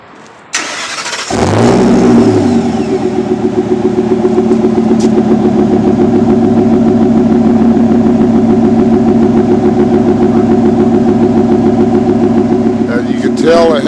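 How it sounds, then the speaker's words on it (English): A 2005 Ford F250 with a Triton V10 and Flowmaster Super 10 exhaust starts up loudly close by, then settles into a steady, slightly loping idle that runs alone to the end. "Just had the exhaust done all stock except for a Super 10 Flowmaster and a tip dumped out in front of the rear wheels."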